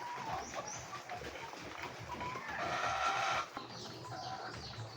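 Chickens on a farm cluck and squawk at moderate distance over steady background noise, with a brief burst of louder overlapping calls midway through.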